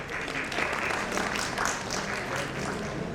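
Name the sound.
audience applause at a tech talk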